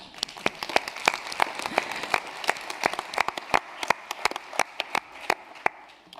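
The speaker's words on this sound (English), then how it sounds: "A round of applause." A conference audience at an international animal-health general session applauds, a steady patter of many hands with sharper individual claps standing out, continuous for several seconds with no voices.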